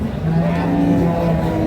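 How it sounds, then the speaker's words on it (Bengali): A three-month-old local calf at a cattle market lets out a steady, sustained moo, loud and close, over a busy background of crowd noise. "3 মাস বয়স বাছুর, দেশি বাছুর।"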